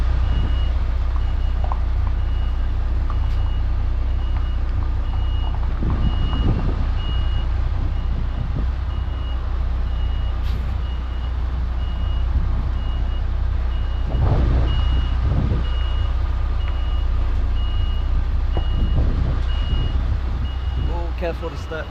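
A car transporter truck backs into a tight parking spot, its reversing alarm beeping steadily and repeatedly over a constant low diesel engine rumble, with brief mechanical clunks and hisses and faint talk at times.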